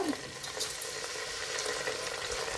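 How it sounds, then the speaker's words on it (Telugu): Gongura leaves sauté in oil in a vessel, a soft steady sizzle with faint stirring and no voices. "ఒక 2 to 3 టేబుల్ స్పూన్ ఆయిల్ వేసుకొని గోంగూరని మగ్గించుకోవాలండి"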